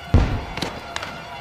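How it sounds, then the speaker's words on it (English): A single loud explosive bang bursts out close by at a street protest, followed by a couple of softer thuds and crowd noise. "An explosion."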